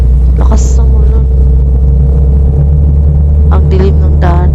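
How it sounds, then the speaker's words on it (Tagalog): Heavy rain drums on a car driving at night on a dark road toward Tagaytay, a constant loud rumble of engine and downpour with brief voices breaking through now and then. "Lakas ng ulan."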